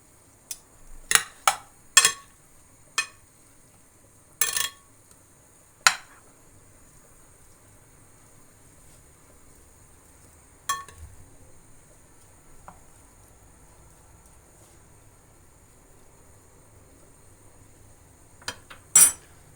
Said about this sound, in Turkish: sebzelerimi yavaşça ezmeden güzelce karıştıralım